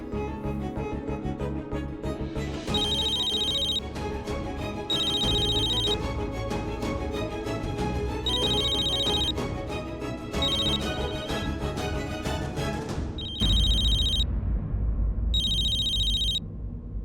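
A telephone rings in repeated bursts of a high electronic tone, sounding several times over a loud, dense music bed, with no voices.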